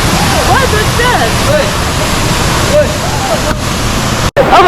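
Rushing water at Aling Aling waterfall in Ubud, Bali fills the scene with a loud, steady roar, while excited voices talk over it throughout and a brief dropout cuts in near the end.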